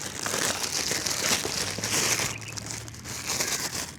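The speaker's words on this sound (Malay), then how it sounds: "so kita buka dulu dia punya plastik ni" Plastic wrapping around a 100,000 mAh SOARFLY power bank crinkles and crackles as it is pulled open, close and fairly quiet, in continuous rustling bursts with no talk.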